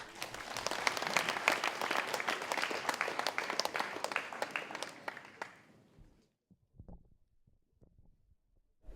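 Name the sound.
audience applause for debate teams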